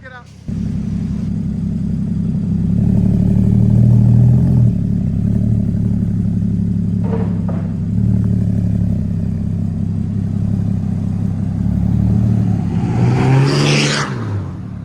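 A 2015 Porsche Cayman with a 2.7-litre flat-six and Vibrant bottle resonators fitted to the exhaust drones steadily at close range, then revs and climbs sharply near the end before dropping back.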